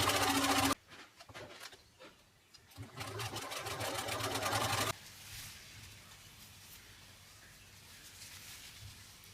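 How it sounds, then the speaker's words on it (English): A sewing machine stitches together triangles cut from leftover fabric scraps for a scrappy quilt, running in a steady rapid whir with brief pauses and a quieter hum near the end, heard up close with no talking. "I stitched together all of those triangles"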